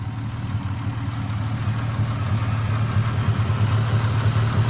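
A Ford XR6 Turbo idles roughly with an exhaust leak at the manifold gasket, giving a steady low rumble with a slightly uneven pulsing that swells a little louder toward the end, with no talking.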